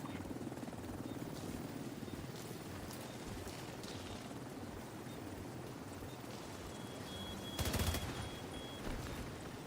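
Game helicopter waiting at the extraction point in The Division 2, a steady rotor drone under gunfire-like bursts and a loud crackling swell near the end.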